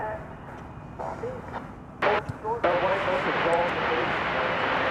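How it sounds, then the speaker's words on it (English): An American Airlines Airbus A321 jet at DFW Airport, a steady broadband engine roar that swells louder partway through and holds, with a voice talking over it. "We have for your consideration American Flight 1714. It's an Airbus A321."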